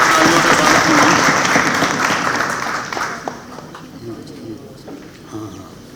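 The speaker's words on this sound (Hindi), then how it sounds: "जोरदार तालियों से स्वागत कीजिए" Loud applause greets a poet at a poetry recitation, dense clapping at first that fades over the middle into scattered claps, with faint voices beneath.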